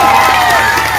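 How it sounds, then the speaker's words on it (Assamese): An audience at a live show, loud, dense applause and cheering that fill the space continuously. "এটা হাত চাপৰি বজাব নেকি"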